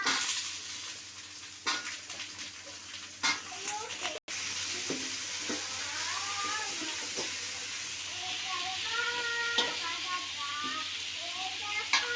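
Raw plantain pieces fry in a pan with softened onions for a Tamil-style poriyal, giving a continuous close sizzle and hiss with occasional scraping stirs and a person talking over it.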